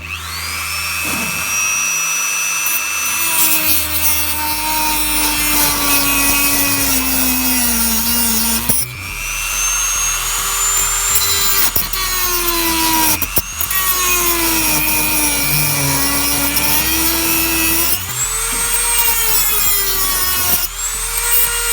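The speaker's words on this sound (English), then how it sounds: "I'll stick it in the vise and cut them off" Metal pieces clamped in a vise being cut off for a grain side tip trailer conversion, a loud continuous abrasive grinding whine that rises and dips in pitch through several long passes, with brief breaks between cuts.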